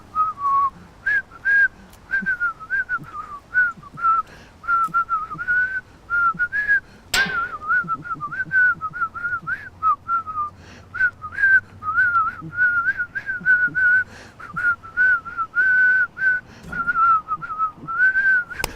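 Someone whistles a wavering tune in short repeated phrases, close by and clear, with a brief sharp knock partway through.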